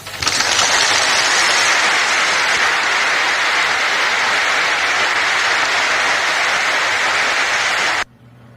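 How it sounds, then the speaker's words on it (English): A seated crowd behind a speaker bursts into loud, dense, continuous clapping heard through a played recording, sustained evenly for about eight seconds before cutting off abruptly. "It just seems to be the people sitting behind him that are clapping."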